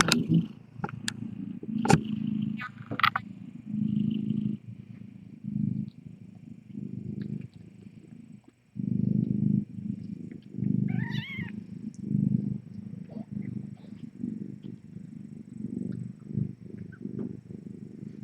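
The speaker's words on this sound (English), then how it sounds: "You're hearing Hiccup from Tip's kitten squeaking." Newborn kitten squeaking softly during a cat's labour, a faint high squeal rising briefly over a steady low purring from the mother cat nearby.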